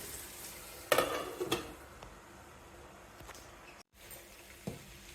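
Salted raw plantain pieces frying in oil under a lid, a low steady sizzle with a couple of sharp clatters near the start and a soft knock later, close and moderately quiet.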